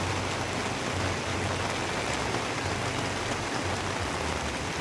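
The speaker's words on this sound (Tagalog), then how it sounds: "ganyan pa lang yung kalakas yung ulan" Steady, moderately heavy rain patters on a surface, a constant hiss of drops with no voices or wind.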